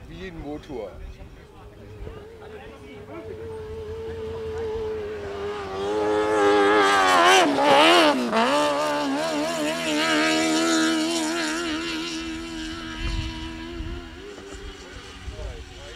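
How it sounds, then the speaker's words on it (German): An engine runs steadily during race training, rising to a louder revving surge midway before settling back, with people talking over it. "Wie ein Motor."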